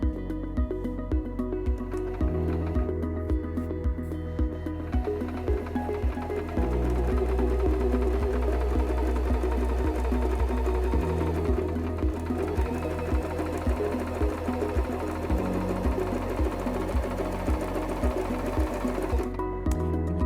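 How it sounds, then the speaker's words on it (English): A Singer M2400 sewing machine stitches fabric in a close, rapid mechanical whir that runs continuously, shifting speed in steps and pausing briefly near the end. "Place your fabric under the presser foot, lower the presser foot lifter, and step on the foot control to start sewing."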